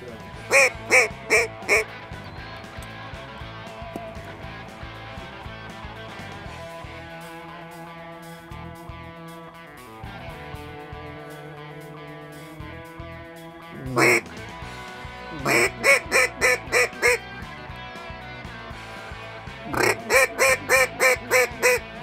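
Bursts of duck quacking come in several rapid volleys, loud and close, separated by quieter stretches of a low steady background.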